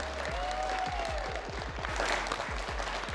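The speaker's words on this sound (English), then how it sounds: "Ladies and gentlemen, please make sure you must be clapping from the bottom of your heart." An audience applauding at a GITEX 2024 games event, a dense wash of clapping under a swooping electronic tone and a series of rapid rhythmic thumps, filling the room steadily from start to end.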